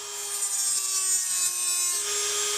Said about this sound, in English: So I'm going to take the Dremel right here